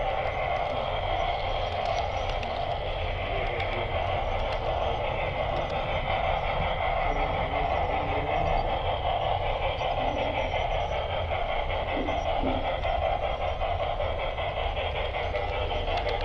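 A continuous rumbling, whirring drone of a model train running along its tracks on a club layout, steady and unbroken throughout.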